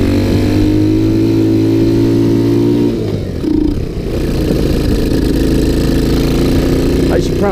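A Sunl 110cc ATV engine runs steadily and loudly up close, holding an even idle-like drone before shifting in pitch and revving as it moves off.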